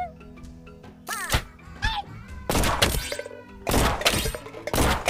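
Gunshot strikes clang against a can target in the Gumslinger video game, a series of sharp hard thunks and breaking impacts spread over several seconds, close and loud over in-game music.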